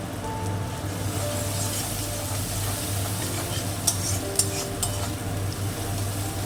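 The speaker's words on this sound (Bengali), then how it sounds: "আমার পেঁয়াজ আর রসুনটা ভাজা হয়ে গেছে" Onion and garlic frying in a pan give a steady sizzle with a low hum underneath, and a few sharp scrapes and clinks from stirring stand out near the end.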